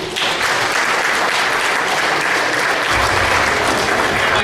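A banquet audience at an anniversary dinner claps steadily to welcome comedian Avi Liberman, loud and continuous for several seconds with no speech on top.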